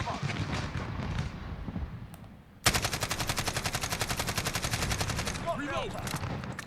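AK-12 automatic fire in Call of Duty Modern Warfare, a sudden loud sustained burst of rapid evenly spaced shots lasting several seconds, with a voice talking before and during the burst.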